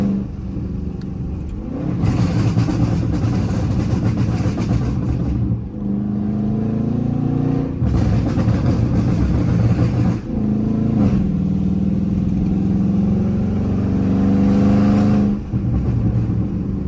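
Burble-tuned Dodge Charger R/T exhaust heard from inside the car, loud and close: a low engine drone swells in three long revving pulls, and each one ends with a short crackling burble as the throttle lifts.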